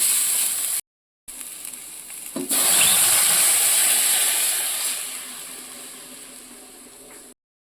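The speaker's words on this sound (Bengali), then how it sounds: "এইবার জলটা ঢেলে দেবো।" Water poured into a hot pan of spices for Maggi noodles bursts into a loud, close hiss and sizzle that swells, then slowly fades over several seconds before cutting off.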